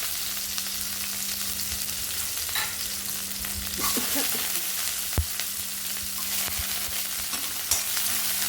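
Ginger and garlic frying in a pan for pirandai thuvayal, a steady broadband sizzle with scattered scraping and clinking stir strokes near the middle, a low hum beneath and no voices.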